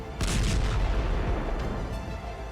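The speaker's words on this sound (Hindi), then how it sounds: "लगातार धमाकों की आवाज आई, जिससे इराक का इरबिल प्रांत थर्रा गया" Explosions over Erbil, Iraq, during an Iranian strike near the international airport: a loud, continuous booming rumble that starts abruptly and keeps pounding for a couple of seconds, with no talk.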